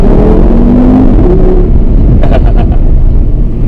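A four-wheel-drive Audi RS3 engine roars loudly while accelerating, a dense, close, steady rumble with a brief sharper burst near the end and no talk.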